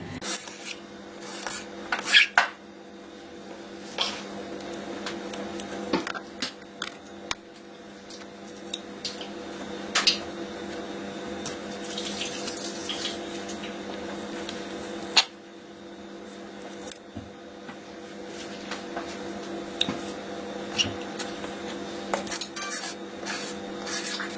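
Wool strands brushed gently by hand: a steady, soft close-up rasping and rubbing with repeated light strokes and occasional small clicks and knocks, continuing without speech throughout.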